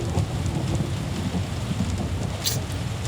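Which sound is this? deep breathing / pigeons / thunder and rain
thunder and rain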